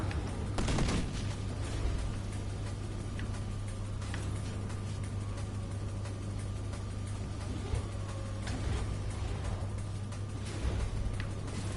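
Double gas cannon firing in the racing combat game Pacer, with sharp blasts and rumbling bursts over a constant engine hum, one strong shot near the start and scattered weaker reports after.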